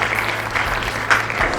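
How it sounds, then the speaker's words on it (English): Applause at a technical institute's Republic Day event, a dense steady patter of many hands clapping at moderate volume for just over a second and a half, with no talking over it. "bigger rounds of applause"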